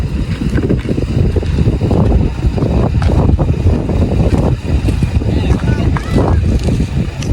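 A passenger boat's engine rumbles loudly and steadily close by as the boat pulls away from a port pier, with wind buffeting the microphone throughout.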